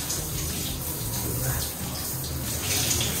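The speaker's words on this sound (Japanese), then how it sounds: "ある程度濡らしちゃったら最後水シャワーで締めます。" Shower water running in a bathroom, a steady hiss and patter of spray with low splashing against the floor, continuous and close throughout.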